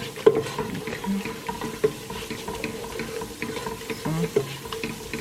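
Ground ogbono is stirred into soup in a pot, with wet sloshing and a spoon scraping and knocking against the pot in an irregular rhythm, close up and moderately loud, with faint background noise and no talk.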